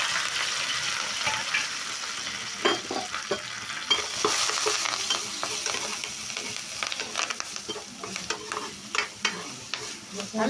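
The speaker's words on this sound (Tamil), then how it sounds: "ரசம் தாளிக்கல வெந்தயம் போட்டு தாளிங்க." Fenugreek seeds and chillies sizzle in hot oil for tempering rasam while a spoon stirs and scrapes the pan, crackling bursts rising and falling close by.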